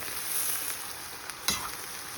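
Tomatoes sizzle and fry steadily in a hot kadai, a constant bright crackling hiss with a small splatter pop near the end, close and alone without talk.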